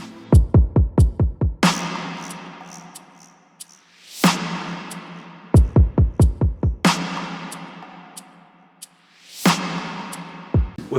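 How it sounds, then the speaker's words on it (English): A programmed hip-hop drum beat plays all its drums together: rapid bursts of booming kicks alternate with sharp snare hits and crisp hi-hat ticks in a steady, slow looping groove, loud and with no talk. "So finally, all the drums together sound like this."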